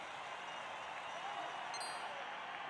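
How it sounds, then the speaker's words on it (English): A crowd cheering in Dragon Quest Monsters 3: a steady, faint wash of applause and crowd noise that holds evenly throughout with no clear peaks. "The crowd can barely contain themselves."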